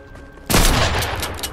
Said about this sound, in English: And someone have a machine gun here.